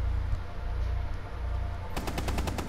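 Rapid gunfire from a tactical shooter match in Rainbow Six Siege: a close, loud burst of evenly spaced shots starting partway through, following a steady stretch of game ambience.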